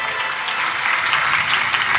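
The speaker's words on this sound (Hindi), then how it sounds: "एक बार उनके लिए तालियां होनी चाहिए साहब" Steady audience applause for a bhajan singer at a devotional Hindi bhajan performance, dense even clapping from a large crowd filling the moment, loud and continuous without any voice over it.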